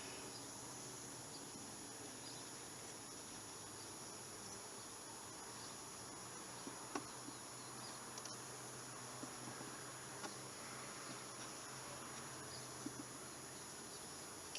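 Bees hum in plastic beehives, a faint, even drone that holds steady throughout with a few soft ticks and bumps scattered through it, and no voices.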